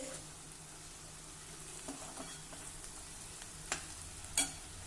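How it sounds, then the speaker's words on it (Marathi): Quiet, steady sizzling of something frying in oil, with a couple of faint clicks of a spoon stirring the pan. "हे बघा हा कांदा हलक्या तांबूस रंगावर परतून झाला"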